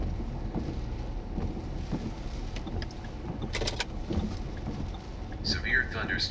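Heavy rain and strong wind during a severe thunderstorm in southwestern Iowa: a steady, dense roar of rain and wind buffeting the microphone, with a few brief sharper bursts, while a voice talks over it.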